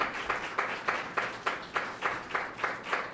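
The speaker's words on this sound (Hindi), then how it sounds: "यीशु मसीह के लिए तालियां बजाएं कलीसिया" A church congregation claps for Jesus Christ during a Sunday sermon, about ten evenly spaced unison claps in a steady rhythm, moderately loud and alone.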